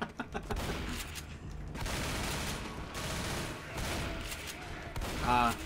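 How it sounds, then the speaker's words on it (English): Sustained rapid machine gun fire in the video game Left 4 Dead, loud and dense bursts with booming impacts and chaotic game noise, voices talking over parts of the barrage. "having the machine gun again just feels natural"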